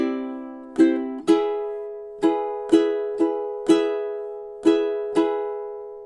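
Ukulele strumming two bars of a song, about nine bright chord strokes in a syncopated down-up pattern, close, clean and unaccompanied.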